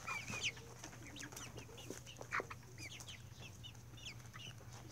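Chickens in a backyard dirt yard give scattered soft clucks and short calls at close range, over a steady low hum, with no talk.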